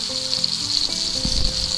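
Butter sizzles in a hot pan with a halved garlic clove, rosemary and thyme, a steady, close hiss that carries on without pause.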